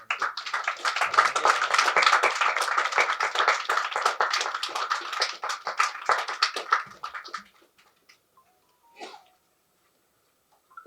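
A crowd at a film success meet breaks into dense, steady clapping lasting about seven seconds, then stops abruptly, with a few faint stray sounds in the quiet after.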